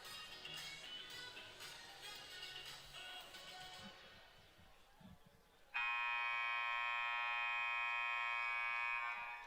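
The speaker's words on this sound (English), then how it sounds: "The buzzer has sounded" A loud, sustained electronic buzzer blares for several seconds in a women's college basketball gym, following crowd noise and sneaker squeaks on the court.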